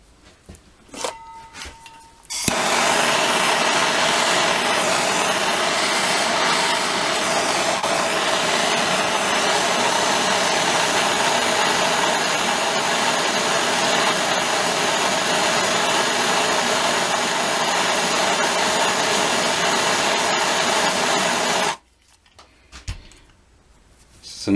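A heat gun blows steadily while heating a rubber fuel line held in a vise, a loud continuous hot-air roar starting abruptly and cutting off about twenty seconds later, with brief handling clicks at either end.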